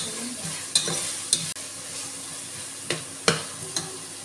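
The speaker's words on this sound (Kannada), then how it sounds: "ಸ್ವಲ್ಪ ಹಸಿ ವಾಸನೆ ಸ್ಮೆಲ್ ಹೋಗೋವರೆಗೂ ಸ್ವಲ್ಪ ಫ್ರೈ ಮಾಡ್ಕೊಳ್ಬೇಕು" Masala fries in a pan under a soft continuous sizzle, broken by several crisp stirring scrapes and clicks of the spoon against the pan, close by and with no speech.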